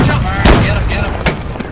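Ship cannon fire in the Holdfast naval game booms out in two or three loud, broad bursts amid battle noise, with shouting voices over it.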